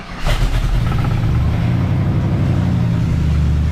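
A rusty 1996 Ford F-250 4x4 engine cranks, catches and settles into a loud, steady low rumbling idle that continues without pause, nearby and alone.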